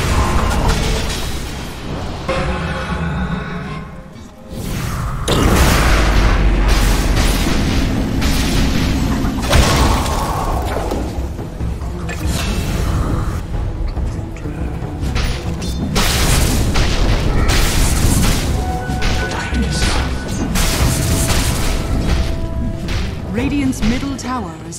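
Dota 2 battle at the Radiant middle tower: dense, continuous booms and explosive bursts with whooshing ability effects, loud and close, under intermittent talk.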